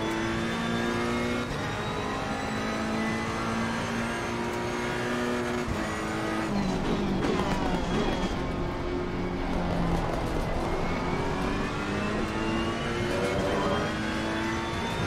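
Race cars driving in Assetto Corsa Competizione, starting from the back of the pack; an engine revs up and down through gear changes, with other cars roaring nearby and occasional tyre noise, steady and loud throughout.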